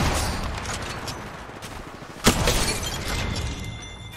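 A sniper rifle (Sentinel) fires a single sharp, loud shot in a first-person shooter game, cutting through steady background game noise.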